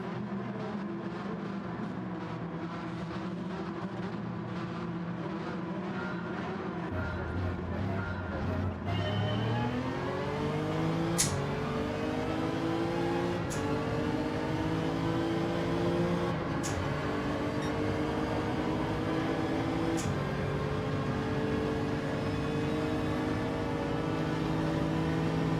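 A Ferrari race car engine in Gran Turismo 7, a steady loud drone that rises in pitch as it revs up through the gears, with brief sharp shift blips over continuous road noise.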